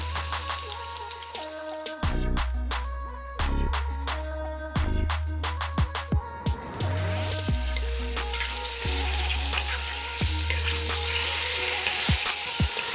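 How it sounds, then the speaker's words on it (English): Vegetables hit hot oil in a pot over medium-low heat, sizzling steadily while spoons and the pan clank sharply at intervals and low tones hum beneath. "And then we're going to add in our vegetables."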